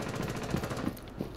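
Gunfire in the tactical shooter Rainbow Six Siege, a few sharp, closely spaced shots ringing out at moderate level over steady game background noise.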